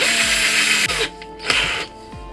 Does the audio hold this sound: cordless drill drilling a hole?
yes